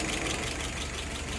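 A carbureted engine on a WO 636SA idles steadily at about 660 rpm, an even, slightly lumpy low rumble with nothing else over it.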